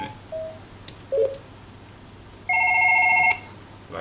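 A Fanvil VoIP desk phone, X3SP or X4 model, sounds its ringtone: a short electronic beep, a two-note chirp, then a sustained steady tone near the end, clear and close with no talk.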